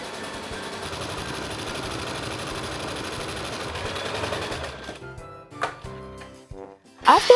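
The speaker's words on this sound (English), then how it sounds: "Then I decided to quilt all the pieces." A sewing machine quilts fabric pieces for Christmas decor, running in a steady, close, continuous hum and whir that breaks into short stop-start bursts near the end.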